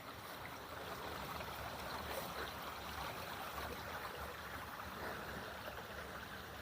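A small river runs beside a boundary wall in Ireland, giving a steady, continuous rush of flowing water that holds an even level throughout with no voices.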